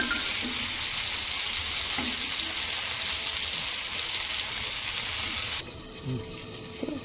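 Cut tomatoes roasting in a pan for chutney and being turned, giving a steady close sizzle with soft scraping touches that drops away near the end.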